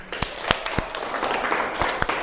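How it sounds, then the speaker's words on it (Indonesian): A class in an Islamic religious education lesson claps for a student group, with scattered sharp hand claps over a steady wash of applause, moderately close and fairly soft for about two seconds. "Sekali lagi kita beri tepuk tangan"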